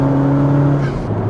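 Full bolt-on Honda Civic Type R on the freeway with its exhaust baffles fully closed. A steady, droning engine and exhaust tone holds throughout at a close, moderate level, heard from inside the car.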